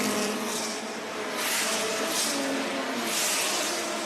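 Race cars roar past at speed down the start-finish straight at Heartland Motorsports Park during a GridLife race, a continuous loud engine wash that swells and fades as cars go by, with no talking.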